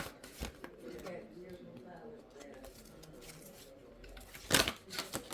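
Cards are shuffled for a card reading, giving soft riffling and flicking rustles close by, with a sharper burst of card noise near the end and a person talking throughout.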